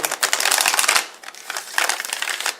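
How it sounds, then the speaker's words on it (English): A deck of Ganesha oracle cards is shuffled by hand in two quick bursts of crisp riffling, close and alone, with a short pause between. "I'm shuffling up my Ganesha Oracle cards"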